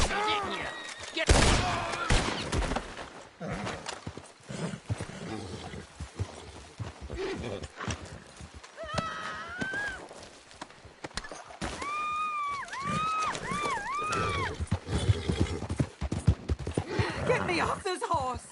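Galloping hooves and a horse's whinny in a Red Dead Redemption 2 scene, with gunfire bursts and people shouting over the action.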